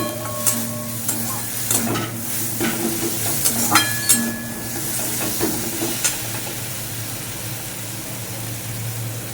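Spice masala for a bata fish curry being stirred and fried in a pan with green chilli added, a constant sizzle and hiss broken by scraping strokes of the spoon and a few clinks against the pot, with no talking.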